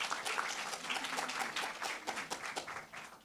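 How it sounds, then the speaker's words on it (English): Audience applause at a panel discussion on prosperity in South Africa, a room of hands clapping in a dense, steady patter that gradually thins out toward the end. "So please, round of applause."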